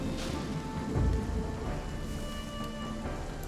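Steady rain with low rumbling thunder in the fantasy game Wartales, a constant wash of downpour with a deeper thunder swell near the start, no voices.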